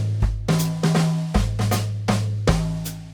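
Jazz drum kit played loud in a private lesson etude, with sharp cymbal and snare hits landing roughly every half second over a sustained low bass tone, close and alone with no talk.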